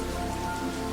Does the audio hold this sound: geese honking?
no